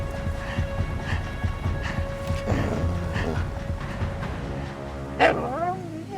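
A dog in a hunting film gives a series of short barks and yips with a whimper near the end, while a voice speaks over them.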